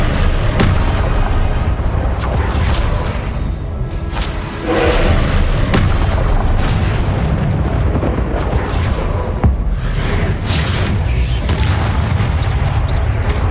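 Explosive spells cast in a wizard video game produce a dense run of booms, thuds and bursts over roughly thirteen seconds. A voice calls out spell names between the blasts.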